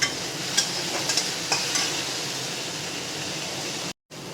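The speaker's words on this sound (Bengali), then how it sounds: "উচ্ছে আর আলুটা কিন্তু খুব সুন্দর করে ভাজা ভাজা হয়ে গেছে" Bitter gourd and potato pieces fry in a pan, a loud continuous hissing sizzle up close, with a few sharp spatula scrapes and taps early on and a brief dropout near the end.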